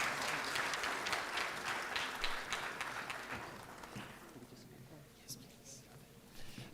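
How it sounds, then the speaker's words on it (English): A conference crowd applauds loudly for a few seconds at a summit, then the clapping fades as voices carry on. "And a quick round of applause for our moderator, Sandro's knees, because he stood up for 55"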